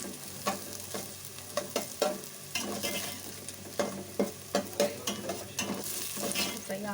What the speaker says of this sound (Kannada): ಫ್ರೈ ಆಗ್ತಾ ಬರ್ತಾ ಇದೆ